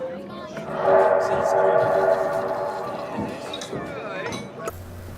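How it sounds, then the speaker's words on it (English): A train bell from the Assassin's Creed game rings as a sustained, ringing metallic tone that holds for a couple of seconds, then fades among background game sounds. "That is a train bell."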